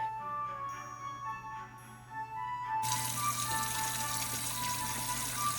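Warm water runs steadily from a kitchen tap into a sink for washing dishes, starting low and then gushing louder as the flow opens up, with a faint steady hum underneath.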